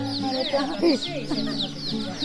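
Small chicks peep in a street fishing-game stall where young chicks are kept, their high chirps running continuously and fairly close under some background talk and clucking.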